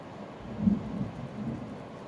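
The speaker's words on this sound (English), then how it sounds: "I wonder if you guys can hear the rain." Soft, steady rain with a low rumble of thunder swelling near the middle, heard indoors at moderate distance during a fabric pumpkin craft session; no talking.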